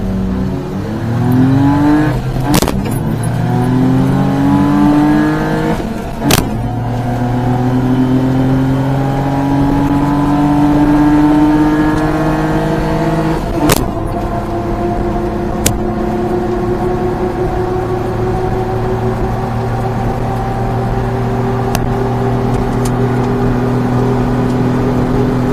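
A mini truck races and accelerates through its gears, with the engine pitch climbing steeply and dropping at each of several shifts, loud and close with continuous drone and no voices.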